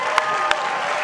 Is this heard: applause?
yes